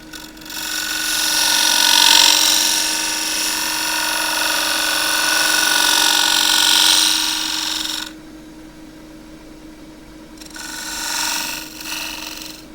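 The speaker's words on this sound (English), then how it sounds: "Bead goes in with a 3/8 spindle gouge." A 3/8 spindle gouge cuts a small inset bead into a warped, split elm bowl on a lathe, a steady loud hissing cut lasting several seconds, then a pause and a brief second lighter cut.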